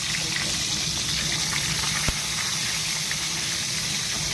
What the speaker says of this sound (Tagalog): Magprito muna tayo ng itong bisolo.